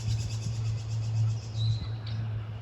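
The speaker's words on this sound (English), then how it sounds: "All kinds of birds. Hey, all kinds of birds. Red-winged blackbirds." Red-winged blackbirds call outdoors in a rainy provincial park, with a few short chirps and one rising whistle heard faintly over a steady low hum.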